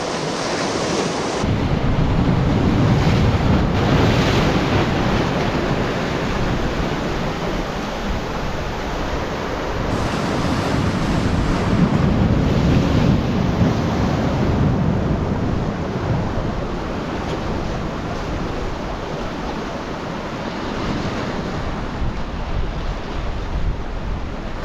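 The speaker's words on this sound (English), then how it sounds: "Nice bit of swell." Sea waves and swell break along the UK coast during a bass lure fishing outing. Loud, continuous surf wash is mixed with gusting wind noise on the microphone, surging and easing over about twenty-five seconds, with no talking.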